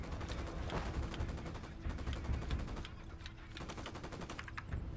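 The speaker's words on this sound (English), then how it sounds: "I'm opening fire on these shitheads." Rapid automatic gunfire in the Ghost Recon Wildlands video game, dense overlapping bursts of shots rattling continuously at a steady loud level, with no speech over it.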